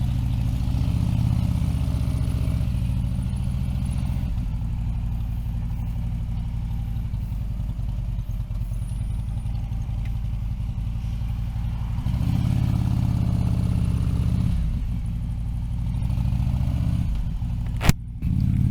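Steady engine drone heard while riding a motorcycle: a continuous low rumble with slight swells in intensity over nearly twenty seconds, no talking, and one brief sharp click near the end.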